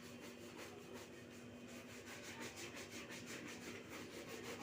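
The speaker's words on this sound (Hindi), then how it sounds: "अपने जूतों पे कर रहे हैं पॉलिश, चमका रहे हैं अपने जूतों को।" Shoes being polished, a very faint, steady rubbing and brushing with a soft rhythmic back-and-forth texture heard close up and quiet.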